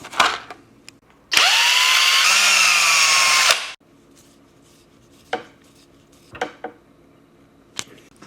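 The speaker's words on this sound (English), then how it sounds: "I'm going to use a drill bit first that's slightly smaller than the screw" A power drill whirs loudly for about two seconds as it bores a pilot hole into a cap, followed by scattered clicks and light knocks.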